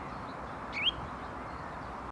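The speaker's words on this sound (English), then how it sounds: "it was a Pacific golden plover" A Pacific golden plover gives a single short, rising whistled call, faint over a constant background hiss of wind or distant surf, with no talking.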